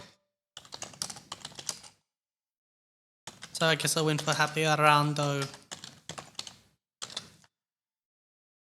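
Clicky bursts of typing on a computer keyboard during a podcast recording, with one stretch before and another after a short spoken phrase, all fairly close and moderately loud.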